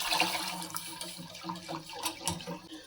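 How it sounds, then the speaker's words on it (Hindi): Fresh milk pours into a pan for a dessert, a steady liquid splash and trickle running the full length at moderate loudness, with no talking. "2 कप यहाँ पर लिया है मैंने फ्रेश मिल्क, ये इसमें जाएगा"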